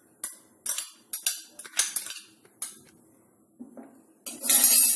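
Mawa is mixed into flour in a metal bowl, a series of sharp metallic clinks and scrapes in an irregular rhythm, close and fairly loud, ending in a denser rustling scrape.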